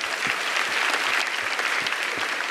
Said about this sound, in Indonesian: performance lu malam hari ini juga layak mendapatkan tepuk tangan dari seluruh penonton